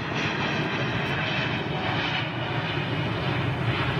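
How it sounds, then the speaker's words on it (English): Steady roar of an Air Mauritius Airbus A330neo jet at London Heathrow, a broad continuous engine rumble and whine holding at fairly close range throughout, with no talking. "Hey, wait a minute, this is the 339 Air Mauritius"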